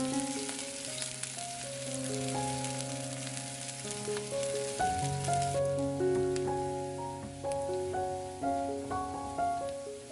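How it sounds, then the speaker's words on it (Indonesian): Shallots fry in hot oil in a large pot, giving a continuous close sizzle with dense crackling and popping, while faint tonal music plays underneath. "Panaskan minyak, kita goreng bawang merah sampai golden brown."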